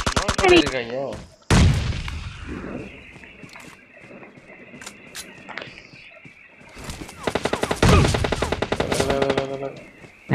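Machine gun fire in a shooter video game: sharp rapid bursts up close, one near the start and a longer burst later, with voices talking between the volleys.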